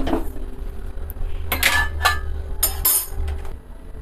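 Metal kadai pan set down on a kitchen stove, a few clanks and scraping clinks up close over a low steady hum, with no talk.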